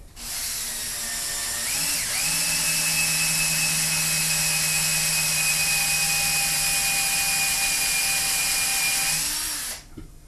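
Power tool reaming a hole in a homemade paper crafting press, a loud steady whine that spins up, holds a high sustained pitch for about eight seconds, then winds down, with no voices.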